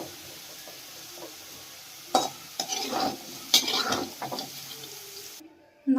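Fried potatoes for sabudana khichdi are stirred in a pan: a soft sizzle underneath, broken by several scraping, clattering spoon strokes against the metal, irregular and close.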